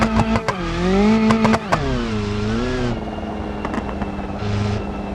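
A car engine in BeamNG.drive revs hard, its pitch sweeping up and down with sharp clicks and shifts, then settling into a steadier lower drone.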